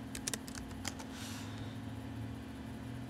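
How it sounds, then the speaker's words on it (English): Brief bursts of computer keyboard typing, a few quick clustered key taps near the start, then steady low room hum with no more keystrokes and no voice. "I'm going to type like, let's say vassal."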